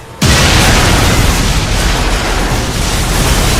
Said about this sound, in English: past those palm trees was the diamond store you always blow up